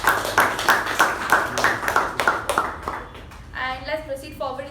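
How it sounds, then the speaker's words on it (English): Scattered clapping from a small Toastmasters meeting audience after a member's speech, a few distinct claps that fade out, followed by a short bit of talking. "please give a huge round of applause for Toastmaster Latha for a wonderful speech"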